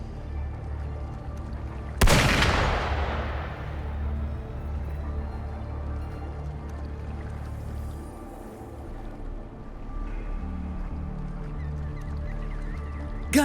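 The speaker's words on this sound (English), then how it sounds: "Gunfire! We've got intruders." A single sharp, loud gunshot blast in the Wuthering Waves video game rings out early and decays into a lingering echo over a low ambient rumble.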